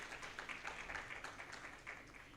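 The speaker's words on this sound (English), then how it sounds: "a huge round of applause for Kishore" An audience at a leadership conference applauding a guest named Kishore, steady, even clapping from many hands filling the whole stretch at moderate loudness, sounding slightly distant, with no talking.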